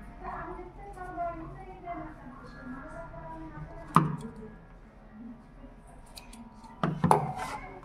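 Scissors snip through folded shirt fabric along a curved line while cutting a child's uniform shirt, a few sharp close cuts standing out around a soft voice talking throughout.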